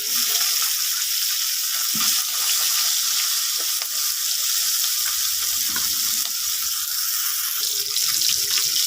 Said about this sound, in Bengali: মাছগুলো দিয়ে দিচ্ছি বন্ধুরা মাছগুলো ভেজে